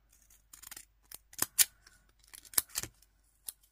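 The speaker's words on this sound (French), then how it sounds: "Je vais attraper le ciseau." Scissors snip through thin scrapbooking paper in a handful of quick, crisp cuts, close up and fairly quiet, spaced irregularly with short pauses between snips.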